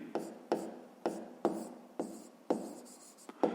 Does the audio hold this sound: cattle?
no